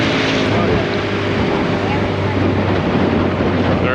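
A motor dinghy running on the water in Sint Maarten, a loud continuous outboard drone mixed with heavy wind buffeting and water rush, close and unbroken.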